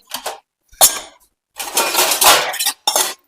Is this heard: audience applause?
no